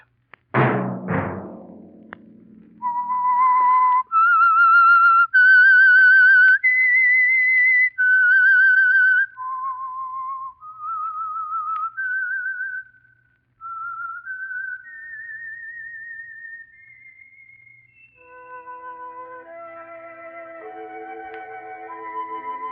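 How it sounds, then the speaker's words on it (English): A lone whistled theme melody from the 1947 radio program The Whistler, clear and steady, moving through a series of held notes with short breaks, ending in a softer sustained tone. "Let that whistle be your signal for the Signal Oil program"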